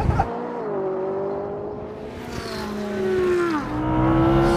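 A McLaren 570S sports car accelerates hard, its engine note rising and shifting through gears as it races by, loud and sustained, with another engine blending in toward the end.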